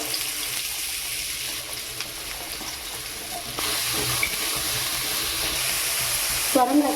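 Bottle gourd sautéing in hot sesame oil sizzles loudly and continuously throughout, with occasional light stirring scrapes and a spatula clatter near the end; no voices.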